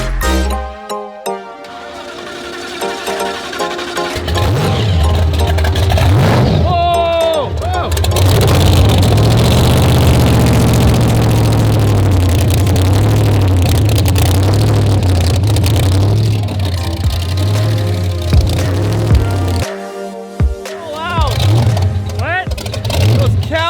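A supercar with its engine bolted straight to the frame, with no rubber mounts, revs loudly and aggressively up close in a sustained roar that rises and falls, with people talking briefly before and after.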